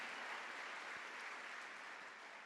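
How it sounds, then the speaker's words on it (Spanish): A church congregation claps during a worship service, a soft, even wash of many hands applauding throughout, steady and somewhat distant. "Dale un aplauso a Él si quiere, aleluya"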